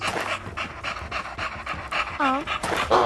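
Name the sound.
dog panting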